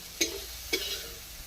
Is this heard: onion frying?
yes